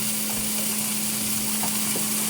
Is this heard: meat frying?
yes